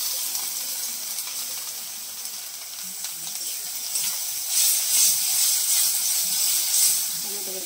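Tomato paste hitting hot oil in a pan while cooking a fish curry, giving a steady bright sizzle that swells louder midway and keeps hissing.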